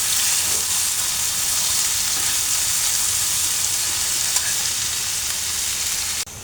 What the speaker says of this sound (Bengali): এখন এটাকে আমি ভালো করে লাড়া দেব